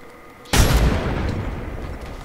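A frag grenade detonates in the shooter game Apex Legends, one sudden loud boom followed by a rumbling decay lasting a couple of seconds.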